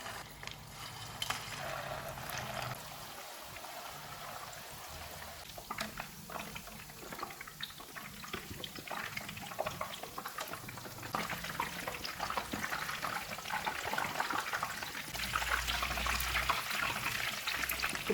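Chatkhara kababs sizzle and crackle in hot oil on a low-to-medium flame, a continuous fizzing with irregular pops that grows slightly busier toward the end.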